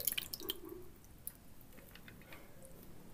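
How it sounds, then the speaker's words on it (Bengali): Water drips and trickles close by as chopped banana stem pieces are strained out of washing water, a faint wet patter with small squishy sounds. "তো এইভাবে জল ছেঁকে ছেঁকে তুলে নিচ্ছি।"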